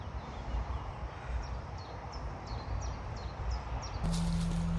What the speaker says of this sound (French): De grandes et belles oies.